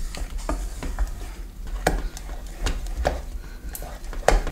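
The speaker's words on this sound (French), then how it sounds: "On va mélanger jusqu'à ce que tout le chocolat soit bien fondu." Chocolate being stirred into hot custard sauce for a chocolate charlotte, with repeated close spoon-against-pan scrapes and soft wet swirling at an uneven rhythm, over a low steady hum.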